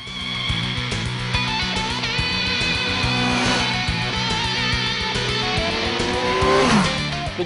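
A Kawasaki Z1000 motorcycle accelerates hard with the throttle open, its engine rising in pitch through the revs with a brief shift dip near the end, loud and close, no talk.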